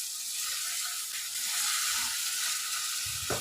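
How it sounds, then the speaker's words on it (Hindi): Boiled chickpeas frying with spices in a pan give a steady, fairly quiet sizzle and hiss, with a brief stirring clatter near the end. "और अब चनों को भी हमने बहुत ही अच्छी तरह से मसाले के साथ भून लेना है।"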